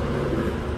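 A truck passes on a road during a walk with a dog, a steady broadband engine and tyre rumble that stays loud and close for the whole short moment, with no voices over it.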